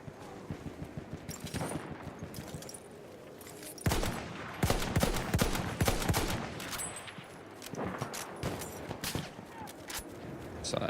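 Gunfire in the video game Battlefield 4, with sniper shooting among it: quieter scattered shots give way to loud, rapid bursts in the middle, then intermittent firing resumes.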